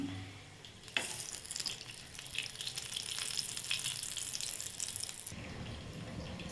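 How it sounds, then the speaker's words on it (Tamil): A steady hiss and crackle as a little oil hits a hot kadai, rising after a small clunk and continuing evenly with sputtering pops. "கடாய் ஹீட் ஆயிடுச்சு இப்போ நம்ம கொஞ்சமாக எண்ணெய் ஊற்றிக்கலாம்"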